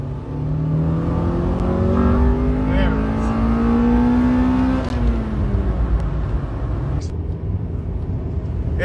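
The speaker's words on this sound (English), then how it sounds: "First time it's hit VTEC in 26 years." Barn-find Honda Civic Si-R EG6 engine revs up into VTEC, pitch climbing sharply to a high wail, then dropping off, loud and close with people exclaiming over it.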